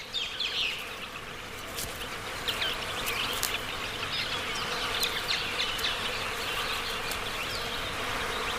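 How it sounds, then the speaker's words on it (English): Flies and other insects buzzing steadily around a harpy eagle chick at a nest surrounded by carrion in the Central American rainforest, a dense close drone with sharp passes and faint high chirps behind it. "The young bird is plagued by insects."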